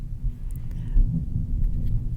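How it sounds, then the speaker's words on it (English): Low, continuous rumbling of distant thunder rolls through the background, swelling briefly around the middle, with no voices. "We're getting thunderstorms today."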